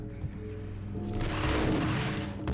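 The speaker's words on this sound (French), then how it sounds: "Le mec il tire sur le mur." Video game gunfire starts after a quiet second: a loud, dense burst of rapid shots and booms that rolls on continuously to the end, with no talk over it.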